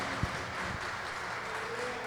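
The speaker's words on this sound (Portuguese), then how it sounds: "Aplauda ao Senhor aqui mais forte, mais forte." A church congregation at a Sunday celebration service claps together in steady, dense applause, with one sharper clap near the start. The sound is moderately loud and continuous, with no clear speech on top.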